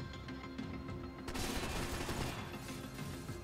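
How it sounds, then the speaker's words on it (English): Gunfire in the video game Max Payne 3 as signs are shot down, with a dense, noisy burst of shots swelling halfway through over a steady droning game background. "I do want to shoot all the signs down, though."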